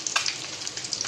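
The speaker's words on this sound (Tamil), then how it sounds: "முட்டை பொரிக்கிறேன்." Eggs sizzling and crackling in a hot pan, a bright continuous hiss with small pops, close and steady.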